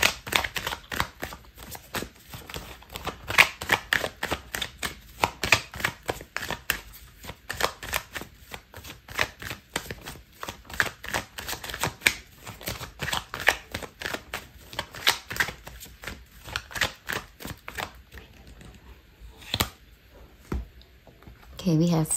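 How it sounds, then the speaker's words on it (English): Tarot cards are shuffled in a long run of quick, crisp riffling clicks in a steady rhythm, close and fairly quiet, with soft talk here and there. "I'm going to pull out another card for you."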